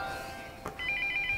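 A toy laptop plays a video call ringtone, a soft electronic ringing with short repeated beeps that starts after a brief click and continues quietly to the end.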